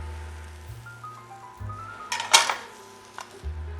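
Metal sizzle pans clank and scrape while being handled at a Monogram hearth oven, with a few sharp knocks and a faint tonal hum underneath.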